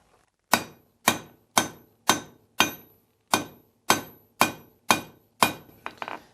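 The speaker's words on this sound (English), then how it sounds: "we can take and just roll it as we're hammering on it to round it up" A blacksmith hammers a hot steel bar into an octagon: nine sharp, ringing metallic blows at an even, unhurried pace, each decaying quickly, followed by a few lighter taps and clinks, loud and close with no talking.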